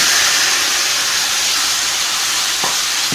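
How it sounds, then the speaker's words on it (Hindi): Chopped tomatoes hit a very hot pan with turmeric and spices, setting off a loud, steady sizzle that hisses without a break, close up, with a faint clunk near the end. "अब मैं इसमें डाल रही हूँ कटे हुए टमाटर।"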